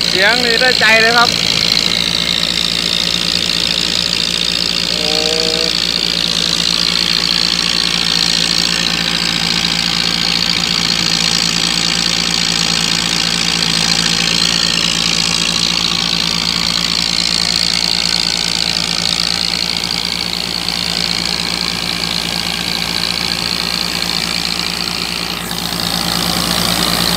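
A tractor engine with a loud exhaust runs continuously while driving a rice mill, a steady rumbling drone throughout with brief faint chatter near the start.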